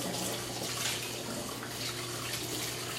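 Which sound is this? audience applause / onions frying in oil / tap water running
tap water running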